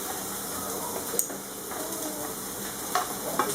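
Vegetables for a Moroccan zaalouk sizzle steadily in a frying pan, a constant close hiss with a few sharp clinks as the utensil stirs them.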